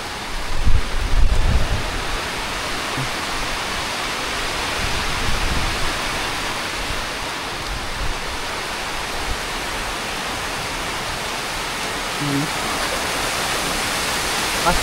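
Heavy rain and storm winds from Typhoon Opong on an island, a dense, constant roar of downpour and gusts with a stronger buffet near the start, loud and unbroken throughout.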